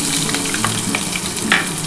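Garlic and green chillies sizzling in hot oil with black cumin seeds as a tempering, a dense close crackling fry with small pops, no talking.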